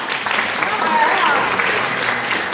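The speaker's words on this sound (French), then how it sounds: "Bravo, Juan, je l'applaudir là." A café-théâtre audience gives the actor a steady round of applause, with dense, continuous clapping filling the room and faint voices underneath.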